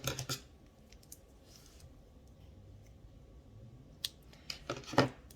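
Crochet yarn being cut with scissors, a few quick snips near the start and again near the end, close and fairly quiet with a soft hush in between.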